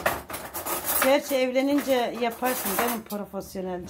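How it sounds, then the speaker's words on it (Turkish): Metal forks and glasses clink and clatter as they are set on a table at home, a busy run of close tinkling contacts under a woman's continuous chatter. "Çatalları da koy, bardakları da koy."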